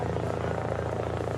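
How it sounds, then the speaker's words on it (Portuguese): A helicopter approaches and lands at a hospital during a rescue. A steady, droning rotor and engine hum runs throughout, with voices faintly mixed in. "Assim que o helicóptero pousou"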